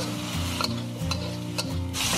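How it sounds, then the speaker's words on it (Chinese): Minced pork stir-fried in a wok with salt, cooking wine, soy sauce and oyster sauce, heard as rhythmic scraping and clanking of a spatula over a continuous sizzle. "最后来半勺蚝油，给它翻炒均匀"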